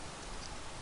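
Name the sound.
rain in video game Minecraft Fire Emblem Craft mod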